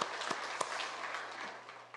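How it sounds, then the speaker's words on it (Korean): Korean church congregation clapping for its choir at a Sunday worship service, a soft, fairly distant patter of scattered claps sustained for a couple of seconds under a low steady hum. "우리 박수로 감사하겠습니다"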